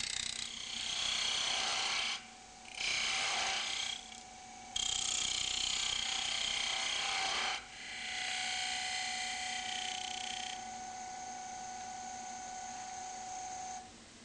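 A wood lathe fitted with a Robert Sorby eccentric chuck cuts a cove, giving a faint, high scraping whine in several separate passes with short pauses, over a steady motor hum.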